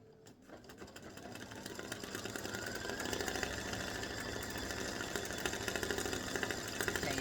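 An embroidery machine running a continuous stitch on a Mother's Day greeting card design, its rapid mechanical needle chatter building from a quiet start into a steady, rhythmic whir that carries on unbroken.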